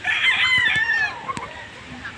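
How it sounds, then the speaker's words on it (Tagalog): A rooster crows loudly and close at a poultry farm during feeding time, one long call trailing off, with a few faint clucks and knocks after it. "makain na yung mga manok nandito na ulit tayo sa manukan"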